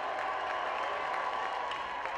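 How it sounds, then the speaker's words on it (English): Crowd at a high school boys baseball championship game cheering and clapping in a steady, loud roar that fills the whole moment without a break. "Listen to the crowd."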